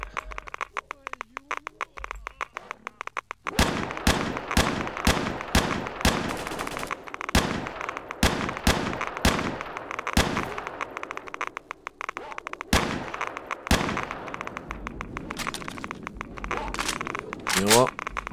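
Rapid gunshots in S.T.A.L.K.E.R.: Shadow of Chernobyl crack out in loud bursts and single reports, with a short pause between volleys and more shots near the end.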